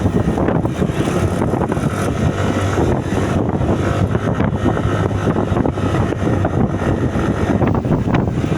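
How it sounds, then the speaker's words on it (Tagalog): Loud, steady wind buffeting a microphone, a continuous low roaring rumble with gusty fluctuations throughout. "grabe ang hangin dito napakalakas ah"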